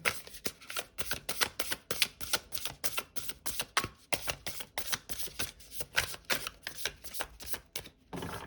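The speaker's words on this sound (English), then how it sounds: "Okay, I'll do one last shuffle." Tarot cards are shuffled close up in a rapid series of crisp riffling snaps, the flutters repeating quickly and continuously.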